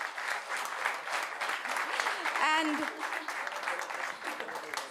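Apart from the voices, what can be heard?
applause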